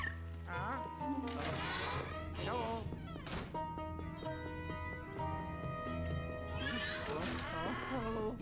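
Cartoonish cat meows from the Luigi's Mansion 3 boss cat on Switch, several rising, wavering cries set against steady game music, with someone talking over parts of it.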